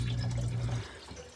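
Water runs through the drain of an ASKO dishwasher with a drain fault, a short close gurgling rush that fades after about a second.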